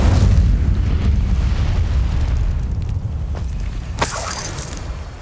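An Incendio fire spell blasts in Hogwarts Legacy as a deep booming burst, rumbling and fading, followed by a sharp crackling flare near the end.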